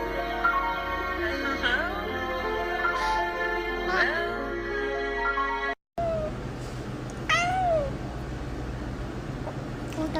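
A cat meows several times in rising, drawn-out calls over a steady mechanical hum, with one louder, clearer meow after a brief dropout near the end.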